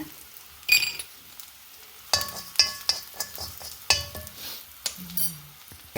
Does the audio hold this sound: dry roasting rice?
yes